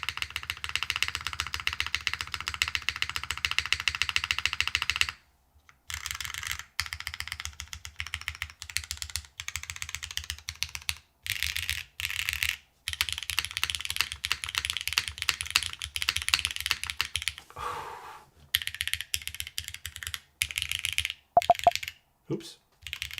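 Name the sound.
typing on lubed mechanical keyboard with FR4 PCB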